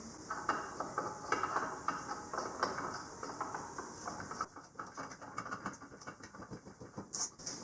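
Bolt being threaded by hand into the clutch cup of a Can-Am Maverick X3, producing a quiet, close run of small metallic clicks and ratcheting taps, faster and denser toward the end.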